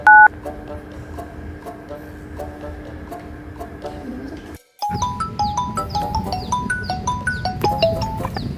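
Telephone keypad tones dial out to place a video call, a quick run of beeps, a brief pause, then a rapid, evenly paced series of bright dialing tones.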